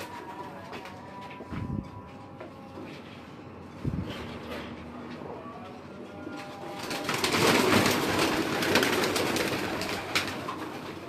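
Soft cooing of breeder pigeons sits under a rustling, noisy background, with a couple of low thumps and a louder whooshing stretch toward the end.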